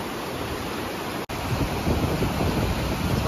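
Breccia Creek in Jasper National Park flows as a steady, broadband rush of water, loud and continuous close by, with no voices over it.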